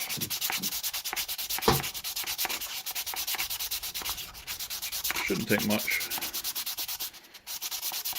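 Steady back-and-forth scratching of sandpaper rubbing a wooden ferro rod handle, continuous and close, with a brief spoken remark in the middle.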